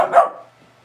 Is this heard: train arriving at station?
no